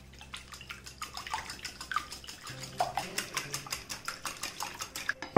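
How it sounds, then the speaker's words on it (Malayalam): A whisk beats eggs for an omelette in a bowl, with quick, rhythmic clinking strokes close by. "ഇനി നമുക്കൊരു വിസ്ക് ഉണ്ട്, ഇതിനെ നമുക്ക് അടിച്ചു കൊടുക്കാം."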